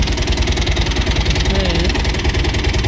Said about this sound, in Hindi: इंजन बनाने के बाद इसमें ये गाड़ी में एक तरह का साउंड आ रहा है